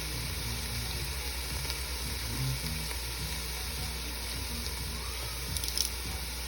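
Fresh garlic sizzling steadily in a hot pan with red and orange peppers while cooking Thai red curry noodle soup, a continuous low frying hiss that stays even throughout.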